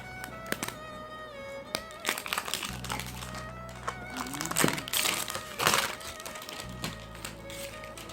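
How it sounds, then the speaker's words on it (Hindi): Packaging of a QMobile Sp1000 phone is handled during unboxing, giving soft crinkles, rustles and small taps close by over a quiet tonal background. "अब आइए हम इस हैंडसेट को अनबॉक्स करें"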